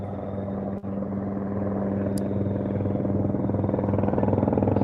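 A helicopter passes overhead during an outdoor live stream, a steady, low, droning rumble that slowly grows louder and develops a faint rhythmic rotor pulse, with no talking.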